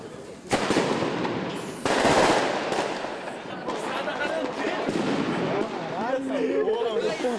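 Fireworks exploding with dense, continuous crackling and booming during a Brazil World Cup 2002 celebration, loud and close, with people shouting and talking over the bursts.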